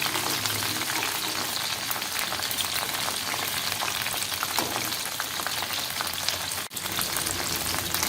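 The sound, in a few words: coated drumsticks deep frying in oil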